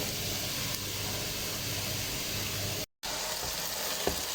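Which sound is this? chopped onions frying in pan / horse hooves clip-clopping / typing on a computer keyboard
chopped onions frying in pan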